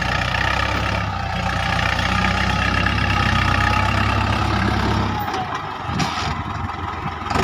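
A heavy New Holland diesel tractor engine idles loudly and steadily, a deep rumbling drone with a brief dip in tone near the end.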